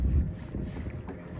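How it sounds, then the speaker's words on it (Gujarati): A speedboat motor rumbles low and steady on the water, with buffeting wind noise in the microphone. "આયા છીએ સ્પીડ બોટમાં"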